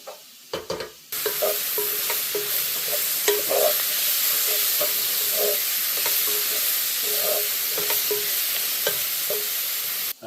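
Green leek tops fry and get stirred in a hot pan for leek and potato soup, a continuous close sizzle with repeated scraping stirs at a steady pace, no talking.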